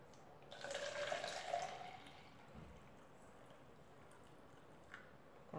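900 ml of water is poured into a small pot with holes in it, a faint splashing stream lasting a second or two and then fading into near quiet.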